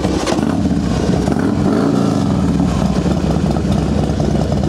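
A 2000 Harley Davidson Fat Boy FLSTF with a Mikuni carburetor runs loud and close, a steady low engine rumble with rapid uneven pulses that holds for the whole stretch with no talking.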